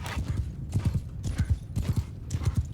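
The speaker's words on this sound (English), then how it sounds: "Here comes their 84 horse archers. Move out! Cavalry, move!" Cavalry horses gallop in a Mount & Blade II Bannerlord battle, their hooves drumming in a fast, steady clip-clop rhythm that comes through close and clear with no talking.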